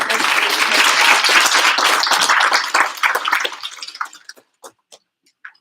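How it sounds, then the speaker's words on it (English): A panel-discussion audience gives a round of applause: dense clapping for about three seconds, then it thins to a few scattered, isolated claps before falling silent. "let's just give our panelists a round of applause for doing it"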